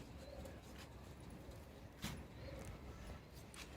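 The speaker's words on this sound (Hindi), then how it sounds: "ये सामने देख सकते हैं कबूतर उड़ रहे हैं।" Pigeons on a rooftop coo faintly a couple of times amid quiet outdoor ambience, with a soft bump partway through.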